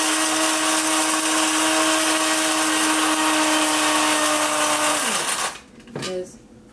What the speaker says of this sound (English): But now I'm going to grind it.